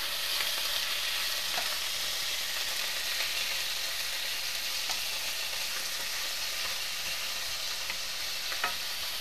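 Meat searing in a hot pan makes a loud, continuous, close hiss, with a few faint clicks and taps and no one talking.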